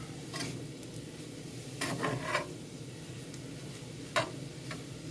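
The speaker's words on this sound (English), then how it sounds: "You're going to sweat these onions out." Onions sweat gently in a frying pan for biscuits and gravy, giving a soft, steady sizzle with a few sharp clicks of a utensil against the pan.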